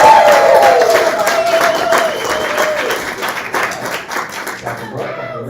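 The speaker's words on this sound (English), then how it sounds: "you cheer wildly" An audience at a live fan convention event bursts into loud clapping and cheering, sustained and dense at first, then gradually thinning out as a voice carries over it.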